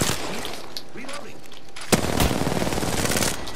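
Gunfire in Apex Legends: continuous rattling weapon fire throughout, with a sharp louder shot near the middle followed by denser, heavier bursts, close and busy.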